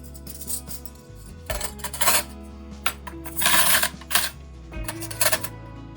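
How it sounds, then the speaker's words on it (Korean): Stainless steel spoons clatter and clink against one another in a quick, irregular series of metallic rattles and scrapes as they are rubbed with an oiled dishcloth, up close and without speech. "행주에 기름 살짝 묻혀서 수저를 닦아봤어요"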